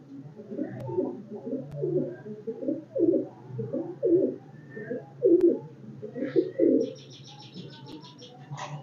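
Pigeons coo in a steady run of soft, throaty phrases close by, each low burbling call rising and falling in rhythm, with a brief chirping sound near the end.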